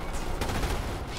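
Machine gun fire from MG turrets in the sci-fi strategy game Starship Troopers: Terran Command, a dense, steady rattle of rapid shots running through the whole short burst amid battle noise.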